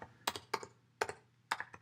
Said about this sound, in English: I'll just start typing in the project name